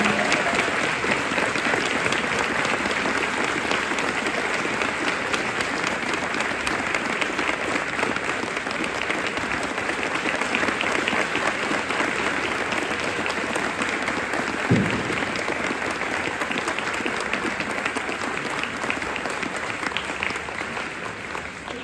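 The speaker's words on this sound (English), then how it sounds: "Let's give Martha a round of applause." Sustained audience applause at a high school madrigal choir's 50th anniversary celebration, a dense, even wash of clapping that holds steady at full strength for about twenty seconds.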